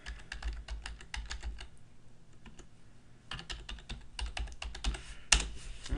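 Rapid keystrokes on a computer keyboard while logging in, a steady run of close clicking taps with a brief lull in the middle, then a burst of faster typing and a sharper key hit near the end.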